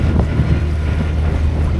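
Wind at sea over a sailboat heading to anchor in a bay, with a northerly blowing off the land; a loud, steady, blustery rush with low buffeting rumble and no speech.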